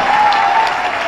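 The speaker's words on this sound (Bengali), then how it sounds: "এই জন্য সবার পক্ষ থেকে একটা হাততালি হবে।" Audience at an award ceremony applauding, a dense, loud burst of steady clapping from many people that fills the moment without a break.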